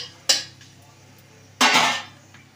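Marinated loitta fish goes into a pan of tempering with dried chilli, cumin and bay leaf, making two close clattering bursts of pan noise with quiet gaps between.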